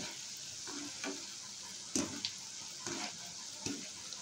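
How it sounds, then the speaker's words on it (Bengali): Gram flour boondi droplets fry in hot oil, a soft steady sizzle punctuated by several quick bursts of spluttering as more batter drops in, close but fairly quiet. "তো এবারে আমি এগুলোকে ভেজে নিচ্ছি"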